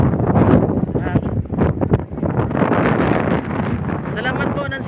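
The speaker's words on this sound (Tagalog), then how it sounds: "Mahangin." Wind gusts buffet the microphone at sea aboard a boat, a loud, steady rushing roar with rumbling low buffeting, and a faint voice occasionally cuts through.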